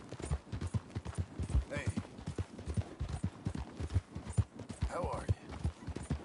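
Horse hooves clip-clopping at a steady walking rhythm in Red Dead Redemption 2, close and clear, with someone speaking over the footfalls.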